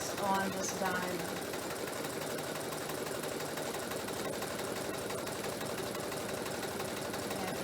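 A sewing machine stitches a quilted diamond block in a steady, continuous fast mechanical whir, close and even throughout, with a bit of talk at the start.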